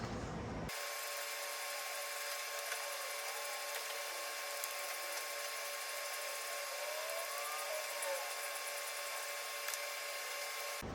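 Whining high-pitched power tool removing T25 throttle body screws on a Porsche Macan S, a steady close buzz sustained for about ten seconds with slight pitch shifts.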